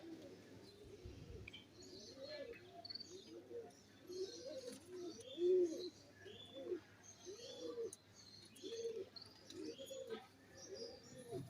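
Pigeons cooing in a rooftop loft, a series of soft, rhythmic low coos repeating about once a second, fairly faint against a quiet background with light chirps.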